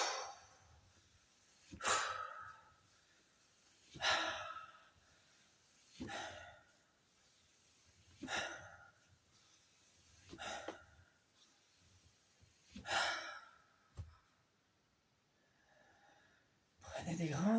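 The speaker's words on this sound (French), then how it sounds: "Prenez des grandes respirations." Slow, deep breaths come during a gentle liver-care stretching exercise. About eight loud inhalations and exhalations repeat roughly every two seconds, close to the microphone, with quiet pauses between them.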